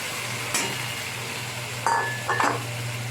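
Moong dal curry is stirred in a pan over a steady low sizzle, with a sharp clink of a spoon early on and two quick scraping clatters of metal against the pan later.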